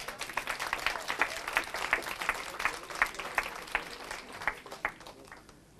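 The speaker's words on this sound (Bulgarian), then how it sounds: "моля аплодисменти за всеки един от вас" Audience applause at a motivational talk, a crowd clapping in a steady patter that swells and then thins out toward the end.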